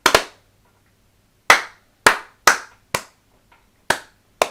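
Seven sharp, separate hand claps in a quiet room before a podcast recording, one double clap, then single claps spaced irregularly at close range with silence between.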